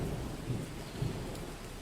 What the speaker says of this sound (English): It's about to start raining any minute.